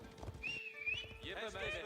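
Age of Empires horsemen ride with quick hoofbeats and a clear whinny, a short in-game burst of horse sounds over a voice.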